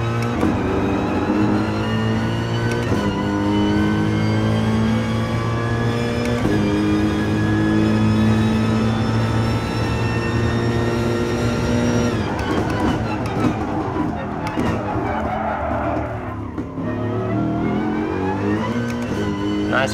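Race car engine in Gran Turismo Sport, driven lap in-game: a loud, continuous engine drone with rising pitch sweeps through gear changes, steady throughout, with occasional speech underneath.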